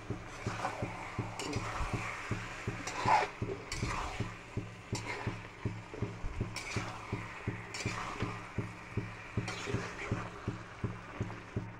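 Boiled potatoes stir-fried dry in oil in a pan, with no water added: steady scraping and clinking of a spatula against the pan in a quick repeating rhythm, close and moderately loud, with a faint sizzle underneath.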